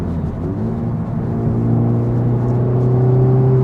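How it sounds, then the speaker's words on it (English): Honda Civic Type-R with a full aftermarket exhaust blipping its revs on downshifts, a smooth steady engine drone that climbs in pitch and holds, heard close and alone. "On the downshifts, the rev matching is on, so you'll hear it do that perfectly every time, of course."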